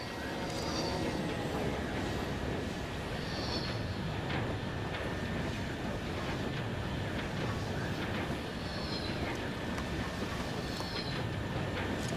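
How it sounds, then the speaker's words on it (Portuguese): A train passes in Ghost Recon Breakpoint, a steady loud rumble of rolling rail cars holding throughout with faint squealing tones above it. "É trem."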